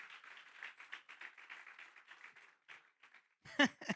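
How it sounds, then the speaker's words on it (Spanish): A church congregation claps in praise, a soft, fairly distant patter of many hands that thins out toward the end before one brief louder burst. "Dale un aplauso al Señor"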